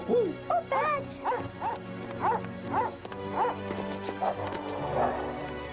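Several dogs in a Cinderella cartoon episode, dubbed in Hindi, bark and yip in short bursts over a low musical background, with a few whimpering, howl-like calls mixed in.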